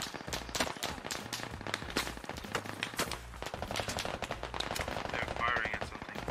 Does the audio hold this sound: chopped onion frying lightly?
no